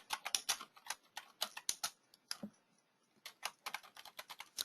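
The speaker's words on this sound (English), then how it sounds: "I can type in" Rapid, uneven keystrokes clatter on a computer keyboard in close, quiet bursts, with a brief pause partway through before the typing resumes.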